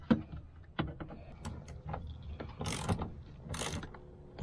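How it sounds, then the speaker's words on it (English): Ratchet tightening a seatbelt bolt inside a Hellcat Redeye car: scattered close mechanical clicks and short rasping bursts of ratcheting, irregular in rhythm, with no talk. "Finish tightening up this one."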